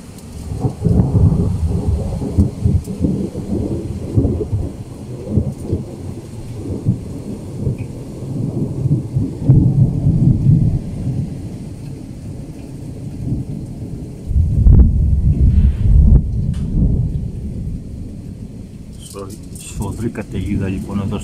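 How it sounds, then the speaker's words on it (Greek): Thunder rumbles through a severe night thunderstorm over a village in Soca, Romania, with rain falling steadily. The rolls are long and low, peaking in heavy booms, and someone talks over much of it. "μόλις καταγράφει ένας απίστευτος κεραυνός"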